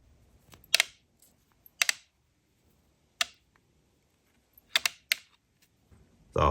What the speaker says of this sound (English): I'm just going to push these ball bearings out and right down into the WD-40